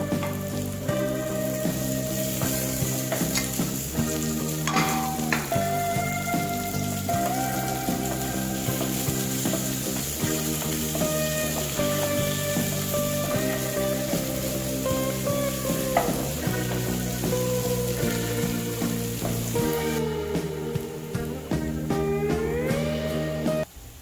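Curry leaves frying in hot oil for a Kerala vegetable kurma, giving a steady sizzle that runs the whole time beneath louder background music.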